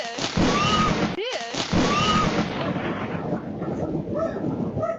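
Thunder from a nearby lightning strike during a storm outside a home: a loud, sharp crack followed by heavy, rolling rumble that fills the whole stretch, with faint voices underneath.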